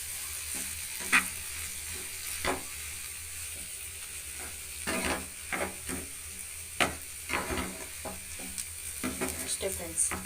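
Potato palya stirred in a frying pan while it cooks: a steady, close sizzle broken by irregular spatula scrapes and clacks against the pan.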